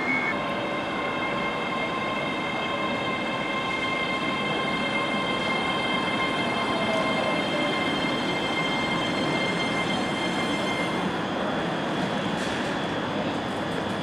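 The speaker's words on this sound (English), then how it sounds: "this train arriving in now" Scottish train 385-418 rumbles into Falkirk Grahamston station steadily with a sustained mechanical drone and high whining tones, close by, with no voices.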